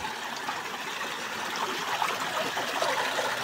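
A waterfall on a forest trek to Vasota fort in Maharashtra pours with a continuous broad rushing hiss, steady and moderately loud, with no talking.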